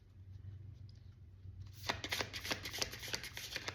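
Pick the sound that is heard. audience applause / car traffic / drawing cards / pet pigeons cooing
drawing cards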